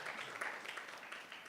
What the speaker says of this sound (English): Let's give our program director a warm round of applause.